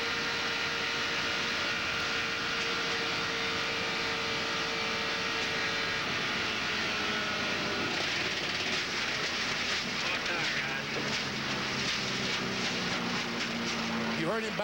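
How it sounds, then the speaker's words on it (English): Jimmy Spencer's stock car engine drones loudly from onboard as he backs off the throttle, the steady roar shifting in pitch partway through, with a voice speaking over it. "You heard him back off the throttle"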